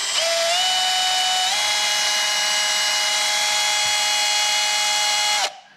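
A power drill with a 1/8-inch bit bores into a center-punched broken exhaust bolt, giving a steady, loud, high whine that holds for over five seconds and then cuts off, with no voices.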